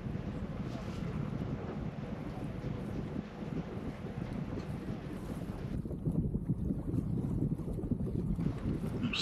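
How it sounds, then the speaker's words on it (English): A sailboat under sail with its engine switched off off the Jurassic Coast, giving a steady broadband rush of wind buffeting the microphone and water noise throughout, with no voices. "we will truly be sailing"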